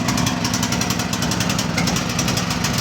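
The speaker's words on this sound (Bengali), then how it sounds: "আমরা একটা জেনারেটর স্টার্ট করে দেখাবো, একদম নতুন হোন্ডা কোম্পানির জেনারেটর" A brand-new Honda 3800 generator runs nearby with a loud, steady, rapid engine chug that stays even from start to finish, with no voices.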